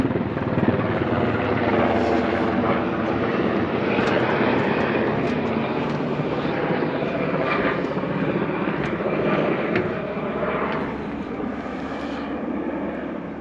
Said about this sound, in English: A big helicopter making noise.